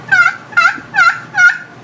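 Four raspy, high-pitched yelping calls from a plastic turkey call, evenly spaced and fairly loud, each with a rising then falling squeal.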